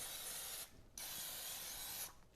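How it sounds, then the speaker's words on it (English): Two bursts of Pam cooking spray hiss into a bread pan, each a steady close spray separated by a brief pause, quiet and alone. "So I spray Pam in the pan."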